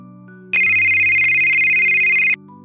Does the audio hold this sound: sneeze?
no